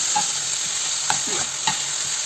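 Ingredients for biryani roast in a pan with a constant hissing sizzle and a few sharp clicks and scrapes as a spoon stirs them, close up and with no voices.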